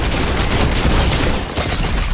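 Dense, continuous gunfire from a Fortnite match, a steady loud burst of overlapping shots filling the whole stretch with no pause and no voices.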